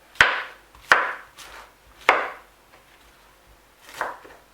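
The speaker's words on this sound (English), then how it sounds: "we're going to chop our pineapple into small pieces and put in the pot." Knife chopping pineapple into small pieces on a board, several sharp, separate chops at an uneven pace, close and clear with no talk.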